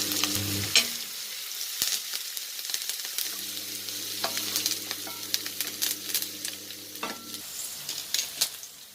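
Onions and green chillies with mustard seeds and curry leaves frying in hot oil for moringa flower poriyal, a steady close sizzle with crackles, spoon scrapes and stirring, plus a low hum in the middle.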